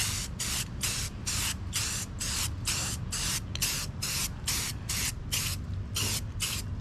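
Aerosol spray can laying a light coat of paint on the hood of a 2010 Honda Civic, heard as about a dozen short, evenly spaced hissing bursts close by, with a steady low rumble underneath.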